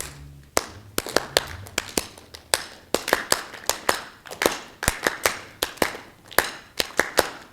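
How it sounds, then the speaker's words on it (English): Jazz orchestra musicians clapping a rhythm together during a studio rehearsal masterclass, sharp unison hand claps landing in a regular syncopated pattern, close and crisp, with no talk over them. "Can we just clap that, guys?"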